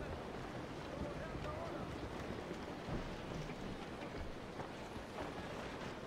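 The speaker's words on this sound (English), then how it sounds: "Just waiting for those waves to get out of the way." Ocean waves surge around a sailing boat that has lost its front mast and has a damaged rudder, a steady, loud broadband wash of water and wind that holds for the whole stretch without pause.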